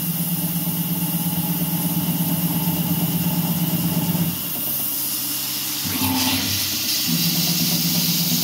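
A CNC gantry mill cutting aluminum with a 1/8 inch two-flute end mill, a steady loud whining hum with a sustained hiss that drops briefly midway, then resumes with a shifted pitch.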